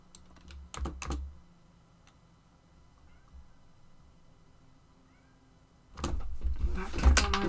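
Two faint meows from a cat a little way off, between bursts of clattering and tapping near the start and louder at the end.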